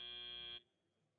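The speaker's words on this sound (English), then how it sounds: "that was the final buzzer of the break" A loud electronic buzzer signals the end of the break at an FTC robotics match, sounding as one steady blare about half a second long before cutting off abruptly into quiet room tone.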